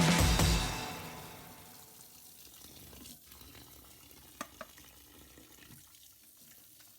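Bitter gourd is rinsed under a running tap, with a loud rush of water at first that drops to a quiet trickle and a couple of small knocks.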